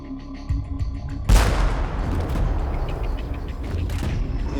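A volley of gunfire cracks out abruptly, with a sharp loud burst followed by a rumbling, noisy tail that hangs on to the end.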